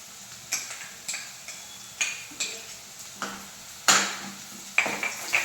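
Ginger garlic paste fries in oil as a spoon stirs it, giving a soft sizzle under regular scraping clinks against the pan.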